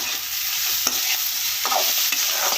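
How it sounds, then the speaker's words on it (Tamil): Chopped vegetables with garam masala and chili powder being sautéed in a pan, a steady bright sizzle broken by a few sharp spoon scrapes and taps, close by with no voices. "இப்போ நல்லா வதக்கி விட்டுலாம்"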